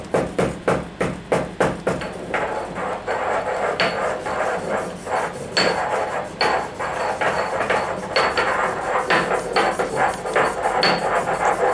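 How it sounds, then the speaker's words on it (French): A sodium hydroxide pellet is ground together with two reactants for a chalcone synthesis, giving close, rhythmic scraping and knocking strokes, sharper and evenly spaced at first, then softer and more continuous. "lors du broyage de la pastille de soude en contact avec les deux réactifs"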